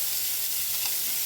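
Sliced onion hits hot oil in a pan beside frying poa fish and sets off a steady, bright sizzle with a hiss of steam. It sounds close and constant, with no talking.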